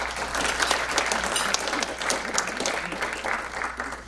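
An audience applauds a speaker at a public talk on new approaches to homelessness in Marin, a dense, steady wash of many hands clapping that holds loud and continuous for several seconds.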